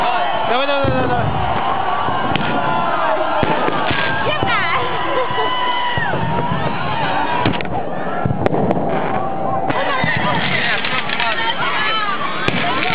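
New Year fireworks burst overhead in loud, rapid, irregular cracks and booms, with a lively crowd and voices close by throughout.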